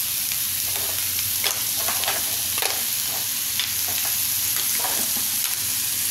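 Rice with mussels and mixed seafood being stirred in a pan for an Italian-style rice dish, with steady sizzling and repeated scraping strokes of a utensil, close and fairly loud, no voices.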